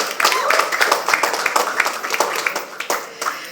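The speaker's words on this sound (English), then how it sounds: "a big round of applause for our esteemed partners and representatives of FilmFare" An audience at a FilmFare Awards press conference claps for the event's partners and representatives, a moderately dense applause with distinct individual hand claps standing out close by.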